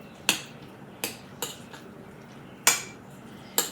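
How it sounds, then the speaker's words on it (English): A spoon stirs cheddar cheese into a thick cookie dough, knocking against the bowl in five sharp, irregular clinks over a quiet background. "Give that a stir."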